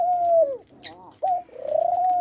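A male dove coos at a female at close range, loud, drawn-out hooting calls with a brief wing flutter and short chirp between them.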